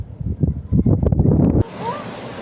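Strong floodwater current rushes along a flooded road during a typhoon, a loud turbulent roar close by that cuts off abruptly, leaving a quieter windy wash with a faint high whistle.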